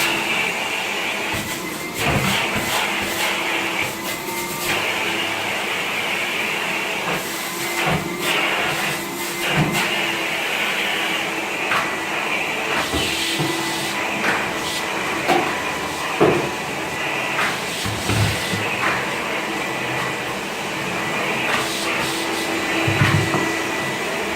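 A vacuum cleaner runs continuously over a floor during professional cleaning, a loud, steady whooshing drone with scattered bumps and clatters from the nozzle, close up and without speech.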